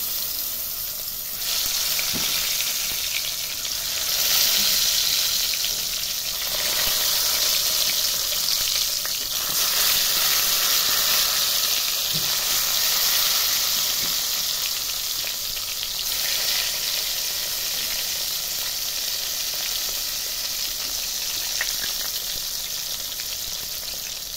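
Brinjal slices frying in hot oil with a little turmeric in a Bengali kitchen: a loud, continuous crackling sizzle that swells and settles as pieces go in, with occasional soft stirring knocks throughout.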